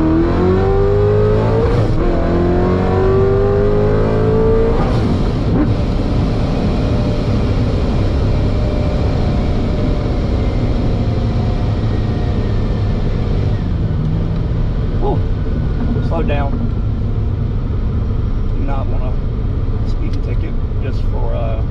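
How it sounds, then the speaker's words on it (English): A Corvette GenV Z06 with Holley EFI port injection accelerates hard toward 60 mph, the engine note climbing loudly through the gears with shift breaks, heard from inside the car under some talk. "let me make a 60 pull here, and I'm gonna go to 60"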